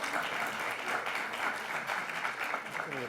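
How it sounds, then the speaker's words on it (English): An auditorium audience applauds at a public talk with a governor, a dense, steady round of clapping at moderate distance, no voices standing out. "Any applause here?"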